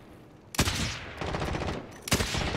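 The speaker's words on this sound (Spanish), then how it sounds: "Le disparé" Gunfire in Call of Duty Warzone: sharp, loud bursts of rapid shots, one at the start, a longer stretch in the middle and another near the end.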